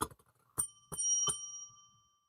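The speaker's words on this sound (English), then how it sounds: "And Eric says, what's wrong with the lack of sound on that Higgy bell?" A small handheld bell is struck about four times. Each ring is a quick, bright ding with a thin metallic ring that hangs on afterward, fairly quiet and a little off to one side, with no voices.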